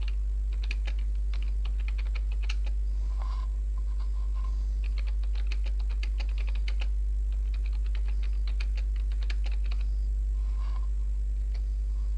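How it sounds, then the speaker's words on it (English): Rapid, uneven clicking of fingers typing on a computer keyboard continues for about twelve seconds, close and clear over a low steady hum, with no talking. "you can just start typing up here."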